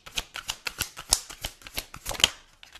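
Tarot cards being shuffled and drawn up close: a quick run of dry, papery riffles and flicks in an uneven rhythm, fairly soft, with no talking.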